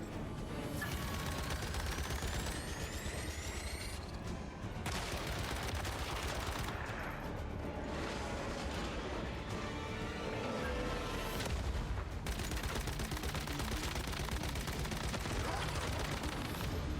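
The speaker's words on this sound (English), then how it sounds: "Just use an LMG for now because I want to burn through some bullets on it." An LMG fires in Once Human in long sustained bursts, a steady stream of rapid shots with occasional pauses, joined by impacts and game effects, with someone talking over it.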